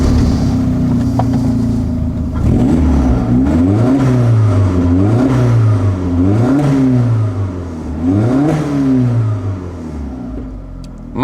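A VW Caravelle's engine, with a mildly upgraded output of around 300, starts and is revved repeatedly. Several rising and falling revs swell over a steady, loud idle close by, with no talking.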